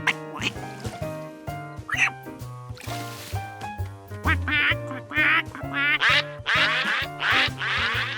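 Cartoon ducks quack in a lively run of repeated calls over a bouncy, tonal musical score, the quacks growing denser and louder toward the end.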